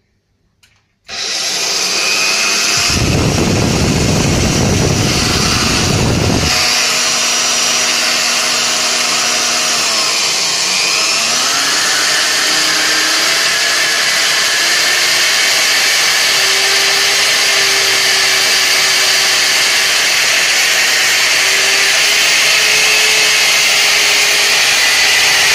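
A homemade lathe built from a drill press stand and a coordinate table runs steadily and loudly, a constant motor whine with a brief louder rasp of contact early on, then continuous mechanical hum with slight pitch changes.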